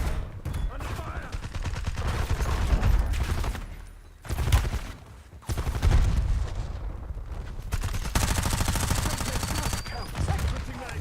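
Sustained automatic gunfire in Call of Duty: Warzone, with dense, loud bursts of rapid shots broken by brief pauses and occasional heavier booms.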